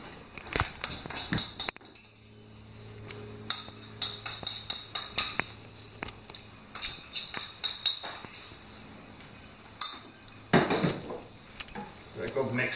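A utensil stirs curry paste into turnips in a pan, with close, irregular clinks and scrapes of metal against the pan, loud bursts broken by quieter pauses.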